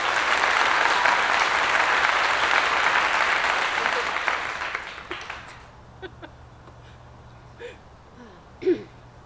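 An audience at a DragonsMist court ceremony applauds loudly for about five seconds, then the clapping thins into scattered claps and fades, with a few faint murmurs and small sounds toward the end.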